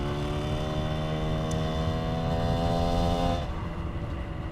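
An 85cc two-stroke project motorcycle engine, newly rejetted with a smaller pilot jet, drones close and loud at high revs with a buzzy harmonic tone, then the pitch drops as it eases off.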